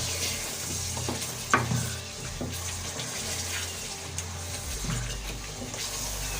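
Potatoes with masala frying and being stirred in a pan for an egg and potato curry, with a steady sizzle and occasional scrapes and knocks of the spoon, and no talking.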